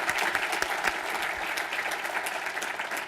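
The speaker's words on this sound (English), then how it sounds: "if we can just have a round of applause for President Honorable Administrator McCarthy" A conference audience breaks into warm applause, a dense sustained patter of many hands clapping at close range, steady throughout.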